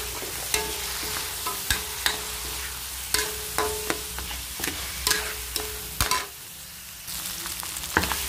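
Pork ribs frying in a pan for pinakbet, a steady loud sizzle punctuated by sharp spatula clacks and stirring scrapes at irregular intervals, close up with no talking.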